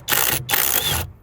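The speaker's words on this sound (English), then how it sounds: "We can just use the impact gun now." Pneumatic impact gun working on the lug nuts of a Honda Civic Type R FK8 while fitting a Mugen wheel: two loud, close rattling bursts, a short one then a longer one, with no talk.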